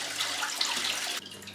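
A bucket of water poured into a fish tank, a dense close splashing rush lasting just over a second before cutting off abruptly.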